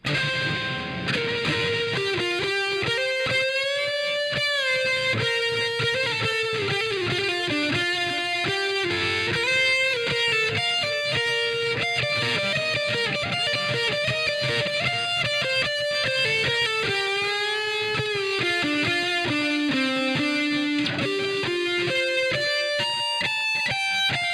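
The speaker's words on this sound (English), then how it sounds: "Here's what it sounds like with distortion." A heavily distorted electric guitar plays a sustained, gritty melodic line with bends and slides, loud and continuous throughout.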